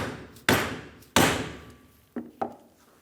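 Hammer taps seating a front wheel bearing race on a Ford E-350 Super Duty during a brake job: two loud sharp strikes followed by two lighter taps, close and alone.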